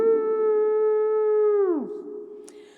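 A theremin holds a loud, pure, howl-like tone for over a second, then glides sharply downward and fades, leaving a faint lingering hum with a brief click near the end.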